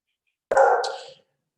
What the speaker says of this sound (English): there are some dogs barking here in my back